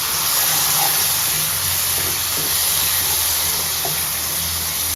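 Ground green chili and coconut masala fries in a pan with a steady, even sizzling hiss that holds throughout at moderate loudness, with faint kitchen clinks underneath and no talking.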